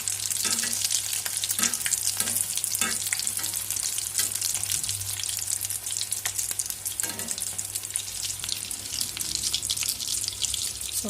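Potato bondas deep-frying in hot oil, a steady close sizzle and bubbling that runs the whole time, with occasional soft stirring and scraping sounds as the pieces are turned.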